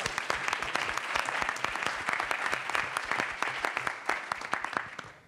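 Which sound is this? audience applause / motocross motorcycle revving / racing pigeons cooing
audience applause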